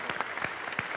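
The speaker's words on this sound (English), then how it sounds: "So round of applause for Mike" Audience at an MIT Enterprise Forum event applauding a participant, a short, soft burst of scattered clapping heard from a distance in the room.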